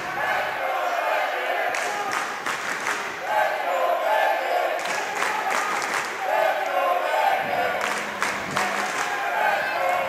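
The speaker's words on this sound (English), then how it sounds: "Crowd's getting into it" Crowd noise rises and falls in waves at a university women's volleyball match between the McGill Martlets and Sherbrooke Vert et Or, with cheering, clapping and scattered shouts under a commentator's voice.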